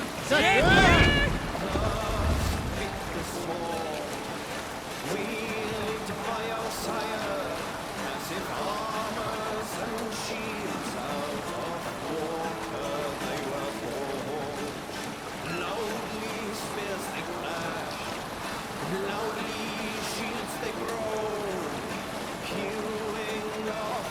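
A longship in Assassin's Creed Valhalla sails out to sea, a steady wash of water and wind under a music bed, with a loud bump at the start and voices speaking at times.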